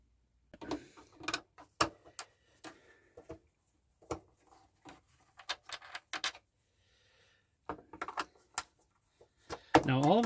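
Screws are worked loose from an Altec Lansing computer subwoofer with a bad connection, giving a string of short, close clicks and scrapes spread across the clip, with a louder rattle at the end and a voice talking briefly.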